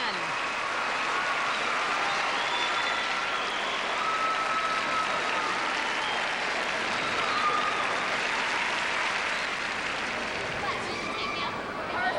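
A gymnastics arena audience at a professional championship stands and applauds, producing a steady wash of clapping and crowd noise that holds evenly from start to finish at a moderate distance.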